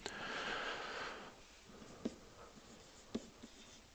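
Marker or pen writing an equation by hand on a board, a steady faint scratchy stroke in the first second and a half, then a few soft taps and short strokes, quiet and close with no speech.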